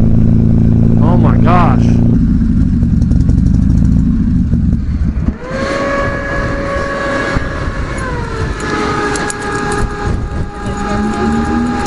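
A motorcycle rides with a freshly repaired clutch, its engine drone rising and shifting in pitch through gear changes, with wind noise throughout and a rider's voice speaking briefly near the start.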